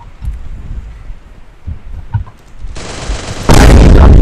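Automatic gunfire in a mobile shooter video game, starting with quiet scattered bursts and growing into a loud, dense rattle of shots near the end.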